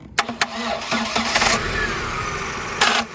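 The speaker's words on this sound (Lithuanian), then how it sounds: "O taip šitą kulką dabar šiuo metu užsiveda." A small vehicle's engine with faulty ignition contacts cranks with a couple of sharp turns, then catches and settles into a rough, steady idle close by in a garage, with a brief flare near the end.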